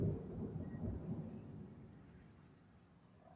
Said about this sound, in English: That was the thunder.